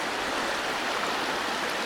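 A small mountain river in the Carpathians flows in a steady, broadband rush of water, close and continuous with no talking over it.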